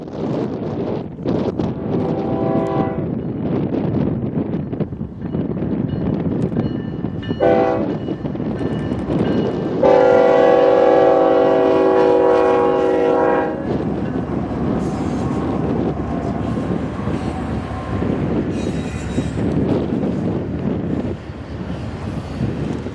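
BNSF and Union Pacific freight trains roll through a Mojave Desert town on Old Route 66, a steady loud rumble of passing railcars with wind buffeting, broken by a sustained multi-tone horn blast and later shorter horn sounds.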